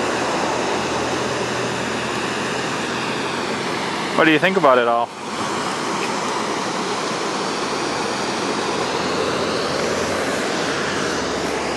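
A waterfall roars as a constant, dense rush of water for the whole stretch, with a short burst of talk partway through.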